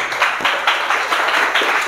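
A classroom group claps together for about two seconds, a brisk burst of applause with rhythmic hand claps close by.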